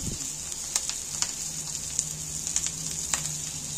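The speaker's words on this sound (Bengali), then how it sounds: "দেখো আলুগুলো এক পিস করে কত সুন্দর ভাজা হয়ে গেছে" Potato pieces fry in a pan, giving a soft, steady sizzle with scattered light pops and crackles and no voices.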